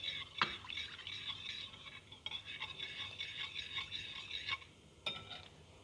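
Ghee and vanilla essence being mixed in a bowl with a spoon, a close, steady scraping and swishing that runs continuously with a couple of sharper clinks against the bowl.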